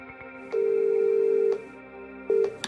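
A telephone line carries a steady electronic tone on an outgoing call, one long beep followed by a shorter one after a pause, clear and alone.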